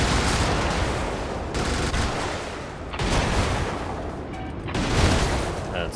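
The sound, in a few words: fireball gun firing in Brigador video game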